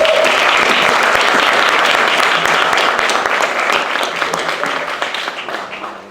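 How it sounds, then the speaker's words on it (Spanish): An audience at a live-broadcast lecture event applauds a psychologist's introduction: thick, sustained clapping from many hands that gradually thins and fades toward the end. "Un aplauso. Un aplauso."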